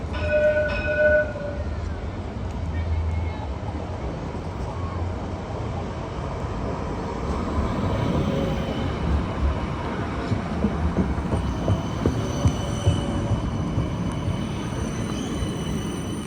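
Parramatta light rail tram, vehicle 2165, passes along the L4 Westmead & Carlingford line at Prince Alfred Square, a steady broad rumble and rail noise building through the middle and holding to the end, with faint squeals overhead.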